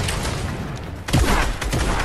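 A burst of rapid video game gunfire in a multiplayer match with rocket launchers nearby. Dense overlapping shots grow louder partway through, with continuous close crackling and thuds.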